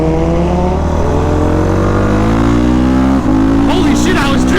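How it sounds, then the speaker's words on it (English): A motorcycle engine revs loud and close, its harmonic tone climbing steadily, briefly dipping, then surging again with a rough, gritty edge. "this bike sounds so freaking nasty"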